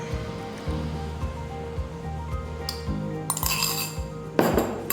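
A fork beats an egg in a bowl with quick, rhythmic clinking taps at close range, followed by louder clatters of dishes and utensils, with no one speaking.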